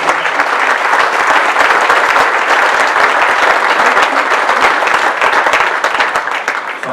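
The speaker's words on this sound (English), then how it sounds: "let's have a round of applause for the candidates for our first round" A city council debate audience applauds the candidates: loud, dense clapping from many hands, sustained for several seconds before beginning to taper off.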